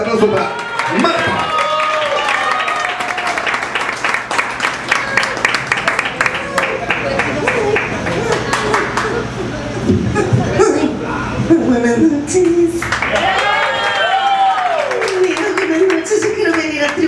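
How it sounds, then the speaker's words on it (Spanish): Audience applause at a karaoke parody show, a steady wash of clapping running under an emcee's amplified voice and loud music for the whole stretch, with some crowd shuffling. "Fuerte el aplauso para Marta"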